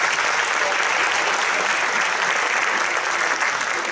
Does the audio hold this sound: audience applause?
yes